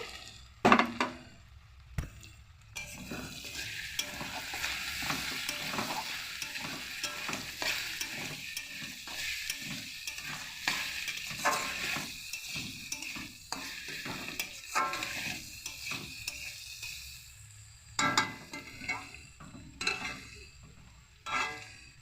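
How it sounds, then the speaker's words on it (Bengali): Onions sizzling with garlic in a pan, a steady frying crackle broken by frequent spatula stirs and scrapes, close and continuous with no talking. "ভাজা হচ্ছে পেঁয়াজ দিয়ে দিচ্ছি"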